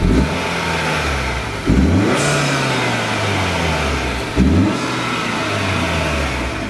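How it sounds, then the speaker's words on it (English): A 2021 Acura RDX A-Spec fitted with an HPS intake revs three times up close, each blip rising and falling back to a steady idle, with loud intake suction noise and no talking. "Kev's gonna give us a little demonstration of the suction noises now"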